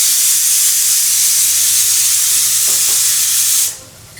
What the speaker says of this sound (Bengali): আর এদিকে প্রেশার কুকারের শব্দটা অনেক জোরে জোরে হচ্ছে।